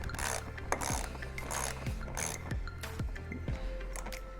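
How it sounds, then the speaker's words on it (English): Ratchet wrench clicking in short repeated bursts while a bolt is driven back in on a Tesla Model Y during rocker panel and mud flap installation, close and steady with a faint background hum. "So now I'm gonna put the bolt back."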